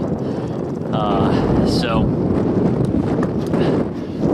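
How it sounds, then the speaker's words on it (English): Strong gusts on ice-covered Presque Isle Bay, Lake Erie, buffet the microphone with heavy low rumbling throughout, while a person speaks briefly under the roar. "it is super, super windy out"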